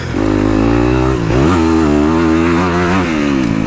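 A dirt bike engine revs steadily on a motocross track, holding third gear before dropping to second; loud, close, continuous engine drone with audible pitch dips and rises at the gear changes.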